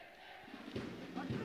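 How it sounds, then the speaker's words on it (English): A stadium crowd at a Nicaraguan football match between Real Estelí and Diriangén chants in the background in Estelí, with faint rhythmic swells under a commentator's talk. "The crowd chants in the background, a festive atmosphere in Esteli tonight."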